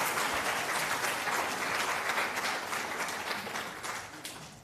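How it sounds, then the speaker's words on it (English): An audience applauds after a pitch at a pitching event, with dense, sustained clapping from a sizeable crowd that tapers slightly toward the end. "And can we get a round of applause,"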